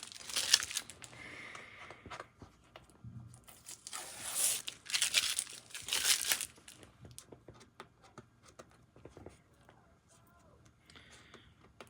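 Layers of packaging are torn and crinkled in several loud bursts of rustling and ripping, with quieter crackles and faint handling noises in between.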